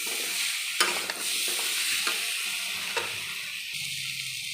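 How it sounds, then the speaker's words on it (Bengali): Pumpkin stalks with green chillies sizzle loudly in hot oil, a steady bright frying hiss broken by several sharp scrapes and knocks of a spoon stirring the pan; no one speaks. "এরপরে ডাঁটাগুলো দিয়ে দিলাম, দিয়ে তেলে আমি 2-1 মিনিট ভালো করে"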